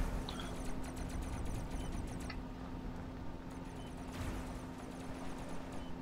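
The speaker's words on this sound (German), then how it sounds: "da oben ist ein Flugzeug" Airplane flying in the video game Robocraft, a faint continuous propeller drone with a buzzing rhythmic texture, steady and distant, with no voices.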